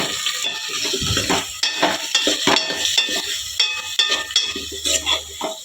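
Ginger-garlic paste with turmeric being stirred into hot oil in a frying pan for an eggplant curry, a constant sizzle under repeated scraping and clinking of a spoon against the pan, close and fairly loud, with no voices.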